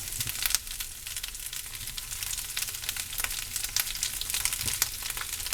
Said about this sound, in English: And then let that saute off.